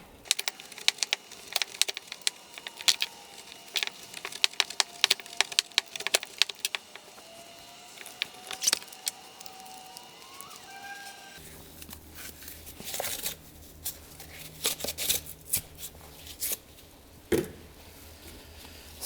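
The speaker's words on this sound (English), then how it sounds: "Now I'm gonna cut the filter media" Cutting apart a used aircraft engine oil filter during aircraft maintenance: close, irregular crunching, snipping and cracking of filter media and metal, with sharp clicks scattered over nearly twenty seconds and no speech.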